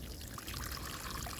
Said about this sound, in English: So you just want to make sure you water these in well.